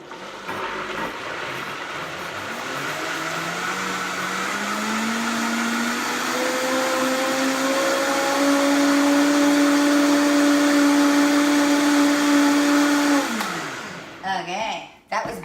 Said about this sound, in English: I'm gonna give this a good long spin because I really want those eggs whipped up nicely